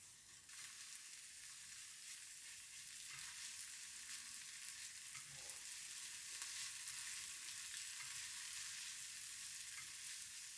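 Egg seasoned with salt and pepper scrambled in a hot pan, producing a faint, continuous sizzle and fry hiss with occasional soft stirring, no voices.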